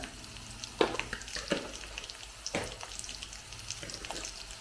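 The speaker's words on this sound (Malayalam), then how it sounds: "ഒരു 1/2 ടീസ്പൂൺ മസാല ചേർത്ത് നമുക്ക് നല്ലപോലെ ഇളക്കി അതിനെ ഒന്ന് മൂപ്പിച്ചെടുക്കാം." Chilli powder and masala stir-fried in a pan for green peas curry, with a low steady sizzle broken by several scraping spoon strokes at irregular intervals, close and soft.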